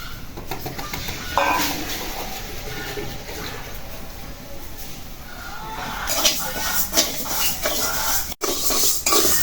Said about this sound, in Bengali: কড়াইটা গরম হয়ে গেছে ডাল দিয়ে দিলাম